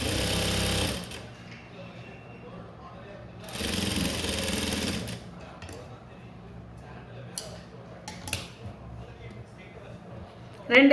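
A sewing machine stitching a blouse hem runs in two loud bursts, then stops, leaving quiet handling clicks and faint rustles before a final short knock.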